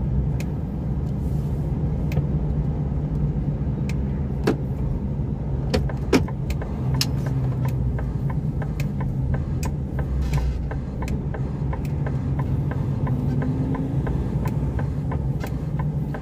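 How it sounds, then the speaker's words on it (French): An Audi TT Spider car overtakes a truck on an English road, a steady close engine and tyre rumble running throughout beneath the truck's own drone, with scattered faint clicks and no talk. "On va laisser passer l'Audi TT."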